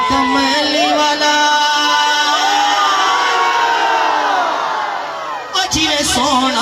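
A loud crowd at a Milad-un-Nabi naat gathering raises a sustained, overlapping mass of voices, cheering and chanting religious slogans together for several seconds before a brief dip and a final swell.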